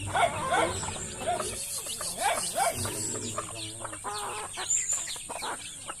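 Native chickens cluck and squawk in a busy, overlapping run of calls nearby, with people's voices talking faintly in the background.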